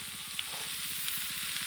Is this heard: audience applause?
no